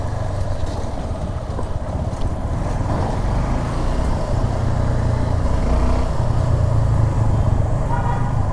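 A Suzuki Gixxer SF 250 motorcycle accelerating, its engine a steady loud drone that holds throughout with a low rumble and traffic-like road noise, and no voices.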